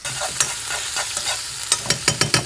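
Pounded spice paste of kencur, garlic and chili sautéing in a pan makes a steady, close sizzle, with spatula scrapes that grow quicker and sharper toward the end.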